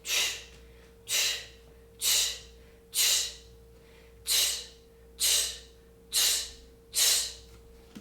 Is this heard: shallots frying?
no